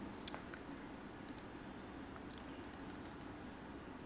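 Light typing on a computer keyboard while writing in Microsoft Word: faint, sparse keystroke clicks come singly and in small clusters over a low, steady room hum.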